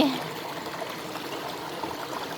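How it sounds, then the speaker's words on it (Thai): Steady broadband rush of falling water, continuous and fairly even, like a mountain waterfall pouring down nearby in a forest. "เสียงน้ำตกแล้วนี่ ไหลลงมาจากบนภูเขา"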